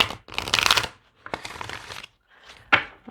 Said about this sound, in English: That was just a little bonus shuffle.